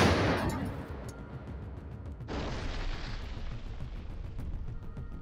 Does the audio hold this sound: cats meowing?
no